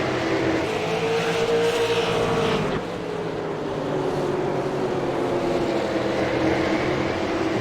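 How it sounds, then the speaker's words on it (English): A late model race car slipping and sliding on a short oval racing-league track, its engine a continuous loud roar with a wavering pitch that dips and rises, steady throughout with no voices. "That car not handling well. You see it slipping and sliding, crossing the start-finish line."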